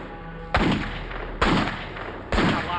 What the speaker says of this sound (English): he took a .357 Magnum and started to fire into the woods